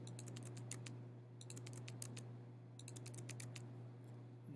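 Computer keyboard typing while indenting C++ code, faint close keystrokes in quick bursts of clicks separated by short pauses over a low steady hum.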